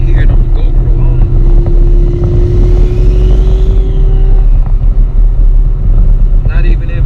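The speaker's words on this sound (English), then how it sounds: "Man, I love that turbo, man. Let me see if y'all can hear it on the GoPro." Turbocharged Camaro with a reverse manual valve body TH400 transmission, loud engine drone and a rising turbo whine while driving, with wind buffeting and someone talking over it throughout.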